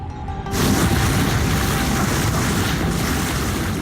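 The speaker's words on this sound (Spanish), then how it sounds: "El ruido permanente de los motores y las hélices está dañando el oído de las ballenas." Ship engines and propellers rumble underwater in the open ocean, a deep, continuous churning drone that swells in abruptly after a moment of quiet and holds steady.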